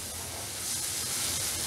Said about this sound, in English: we're going to add some white wine in there. And there you go. We're going to deglaze it.